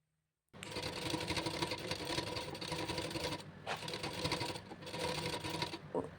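A sewing machine runs a hem stitch along the bottom edge of a lined blouse, a fast steady mechanical whirr and clatter that starts abruptly, with brief pauses and restarts, close and alone.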